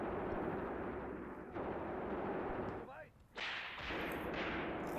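Mortar and artillery fire in the Graviteam Tactics WWII battle game, heavy distant booms and rumbling blasts rolling continuously over a few seconds with a brief dip before another impact.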